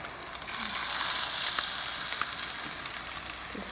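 Salmon patties sear in a frying pan, giving a close, continuous sizzle and crackle that stays steady throughout with no voices.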